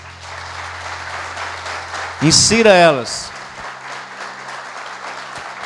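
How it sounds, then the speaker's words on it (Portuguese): A church congregation applauds during a sermon, a steady sustained wash of clapping from start to end, briefly topped by a loud voice calling out near the middle. "Vamos aplaudir Jesus?"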